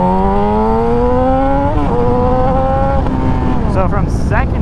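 Yamaha YZF R6 sport motorcycle accelerating in second gear, a loud, close engine whine climbing steadily in pitch, with brief dips at gear shifts and a rising rev toward the end.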